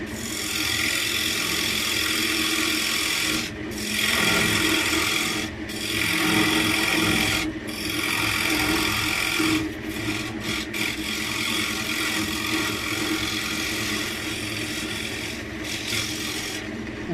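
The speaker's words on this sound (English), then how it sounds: "I do like to use the parting tool to cut mortises." Parting tool cutting into oak on a wood lathe for a small ashtray: a loud, steady scraping rasp with brief dips where the cut pauses, heard alone.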